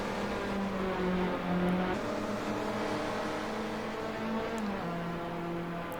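Touring cars, a Mazda and a Mustang, racing in the Assetto Corsa video game at a simulated 1967 Silverstone; engine tones rise and fall with gear shifts, a steady loud droning with overlapping revving pitches.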